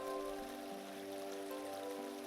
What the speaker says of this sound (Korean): 지금 이 시원한 물소리에 당신의 그 답답한 속을 씻어내 봅시다.